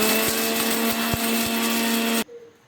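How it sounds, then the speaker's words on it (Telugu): A kitchen mixer grinder whirs loudly and steadily while grinding spice powder, a strong motor drone with periodic knocks, then switches off abruptly and winds down near the end. "ఇప్పుడు మిక్సీ కొట్టుకున్నాను."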